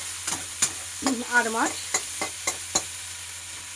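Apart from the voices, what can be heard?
onion and tomato tempering frying in a pan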